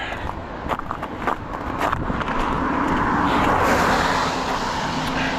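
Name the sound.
vehicles driving past on a street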